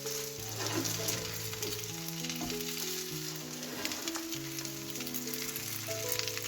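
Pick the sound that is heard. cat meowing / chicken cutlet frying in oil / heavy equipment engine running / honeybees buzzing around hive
chicken cutlet frying in oil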